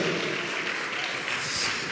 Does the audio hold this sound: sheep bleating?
no